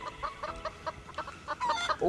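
Rapid, repeated chicken clucks from a Roblox video game in a quick pulsing rhythm, fairly faint, with a slightly busier burst near the end.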